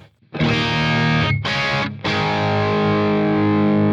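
A distorted electric guitar through an amp modeler set as a cold-biased Diesel amp rings out with thick sustained chords, briefly choked twice before ringing on, loud and up close.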